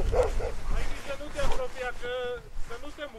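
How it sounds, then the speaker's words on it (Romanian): A dog barks a few times at close range on a mountain summit by a weather station in the Brețcu Mountains, with wind noise and people talking over it. "A, e periculos câinele?"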